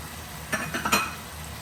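Spinach tipped into a hot pan gives a few quick sizzling rustles and stirring scrapes over about half a second, close and moderately loud, then settles to a faint hiss.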